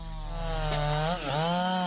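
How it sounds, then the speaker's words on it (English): A Husqvarna 371 XP chainsaw runs loud and close at high revs while felling an old tree, its steady engine whine dipping briefly as the chain bites into the wood. "The Husqvarna 371 XP chainsaw emerges as a formidable force,"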